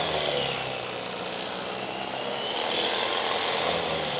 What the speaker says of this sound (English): We're going to start slicing this brisket up. Get my nice little handy dandy slicer.